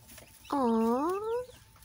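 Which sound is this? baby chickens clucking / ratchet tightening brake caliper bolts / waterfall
baby chickens clucking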